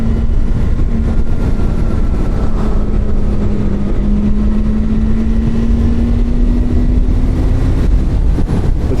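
A detuned older Yamaha R6 599cc inline-four motorcycle engine drones loudly and steadily, a constant close roar with a sustained tone that drifts slightly in pitch throughout.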